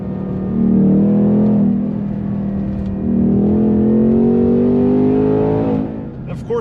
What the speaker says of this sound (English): You really hear the V8 burble in here